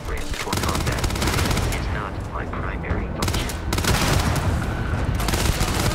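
Sustained automatic gunfire in the sci-fi game Starfield roars in long, dense bursts with a brief lull, loud and close, while a voice speaks partway through.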